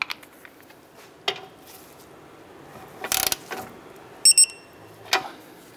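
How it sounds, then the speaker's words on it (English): A torque wrench tightens the castle nut on the upper ball joint of a 2008-2012 Honda Accord, giving a few faint ratcheting bursts and then two sharp clicks as it reaches set torque, heard alone in a quiet garage. "let's go ahead and torque that down to"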